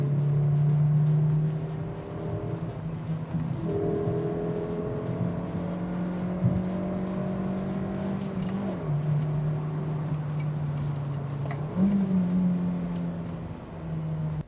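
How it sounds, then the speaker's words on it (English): A Maruti Brezza petrol compact SUV engine drones steadily from inside the cabin, its tone rising and shifting through gear changes with a brief surge near the end, heard alone at moderate loudness. "let you listen to the Brezza going through the motions for a bit so that you realize a little bit about what it does sound like"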